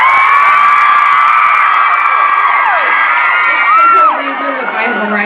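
A concert audience cheers and screams in a loud, sustained wall of high-pitched shrieks and whoops that dips slightly toward the end.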